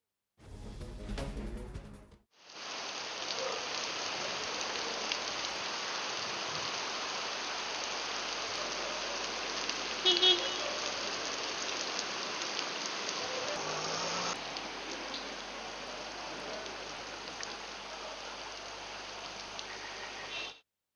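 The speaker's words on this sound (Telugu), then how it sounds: "నగరంలో కురుస్తున్న భారీ వర్షంతో రహదారులపై నీరు ప్రవహిస్తోంది." Heavy rain falls steadily across a city, a dense, even hiss of downpour that holds at a constant level for the whole stretch after a brief opening noise, with no voices.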